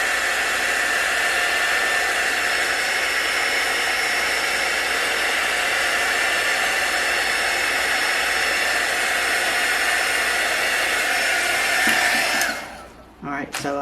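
A heat tool blows steadily and loudly over taped paint on a barn quilt, a constant airy roar that cuts off near the end.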